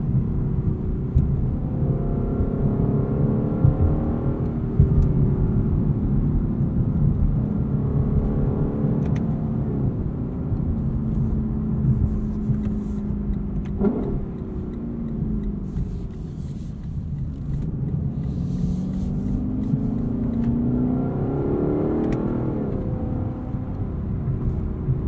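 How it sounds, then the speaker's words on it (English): A 2021 Lexus LC 500 coupe's engine and exhaust rumble steadily while driving, the pitch rising and falling through gear changes, loud and continuous with no talking. "Lexus did such an amazing job tuning this exhaust."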